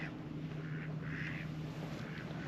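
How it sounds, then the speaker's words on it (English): Faint duck quacks come in a few short bursts from a channel with ice forming, over a low steady engine hum and light wind, somewhat distant. "There's a load of ducks on the channel."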